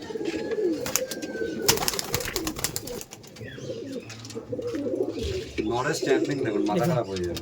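Madrasi pigeons coo in low rolling phrases among sharp clicks, clatter and wing movement in a busy loft, with people talking nearby.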